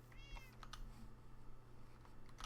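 Cats meow in a video game, a few short faint cries over a steady background hum and light clicking like keyboard typing.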